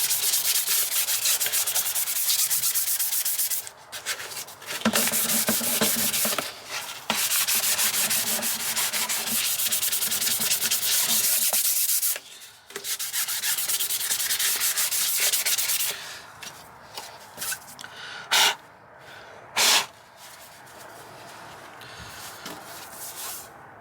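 Interior trim panel is wet-and-dry sanded by hand with 800 grit paper, a close, steady rasping rub in long back-and-forth strokes with brief pauses, growing patchier and interrupted toward the end.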